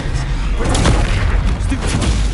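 A Confringo blasting spell explodes in the Hogwarts Legacy video game, a loud, booming blast with heavy low rumble and crackling debris filling the whole moment.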